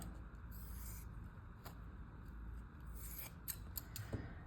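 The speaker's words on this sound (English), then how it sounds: "just like a normal kitchen sponge, I'm just cutting off" Scissors snip the tip off a kitchen sponge, giving a few faint, soft cuts and crisp clicks over a low background rumble.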